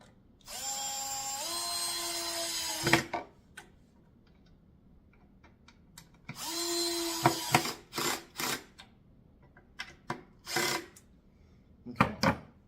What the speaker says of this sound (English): And again, just drill these down.